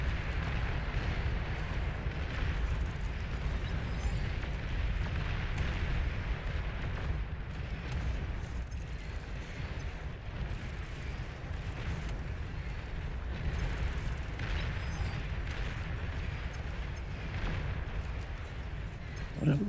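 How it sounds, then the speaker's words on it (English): Explosions rumble through a Beyond All Reason game base, a dense continuous roar of booms and artillery-like blasts with a constant low-end rumble throughout. "This stuff, part of my base just blew up."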